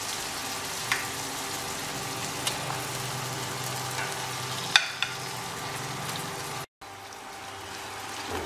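Chicken sizzles and fries steadily in a pan for a South Indian Chettinad curry, with close, continuous crackling and occasional clinks of a spoon stirring, and no voices.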